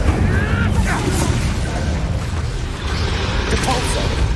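The Incendio fire spell goes off in Hogwarts Legacy combat with a rumbling, booming whoosh, dense low-end energy continuing throughout and voices talking over the action.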